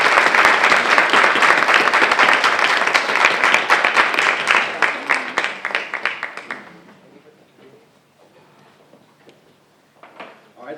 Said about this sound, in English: Let's have a round of applause for all the spellers.